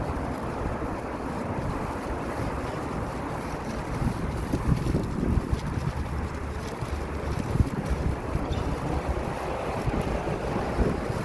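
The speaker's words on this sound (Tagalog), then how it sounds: "Laka diha ang hangin." Strong, steady wind roars and buffets the microphone, with a low rushing rumble that swells louder in gusts throughout.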